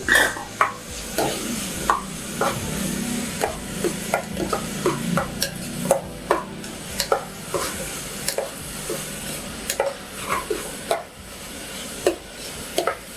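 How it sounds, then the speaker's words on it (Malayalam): Vegetables with chillies sautéing in a pan for vegetable pulao: a soft steady sizzle with frequent sharp clicks and scrapes of a spoon stirring against the pan. "അത് ഒരു ടേസ്റ്റിന് വേണ്ടിയാണ് ഞാനിങ്ങനെ സോട്ട് ചെയ്യുന്നത്, വഴറ്റുന്നത്."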